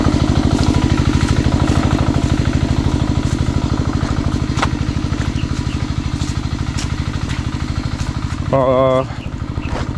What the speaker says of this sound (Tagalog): Iwanan namin umaandar ng makina.